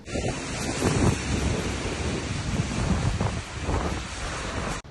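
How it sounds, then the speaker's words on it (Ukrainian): A strong storm wind gusts outdoors along a riverside embankment in Dnipro, Ukraine. It roars and buffets the microphone as a steady, loud, broadband rush for the whole stretch, with no voices. "А вітер такий не слабенький."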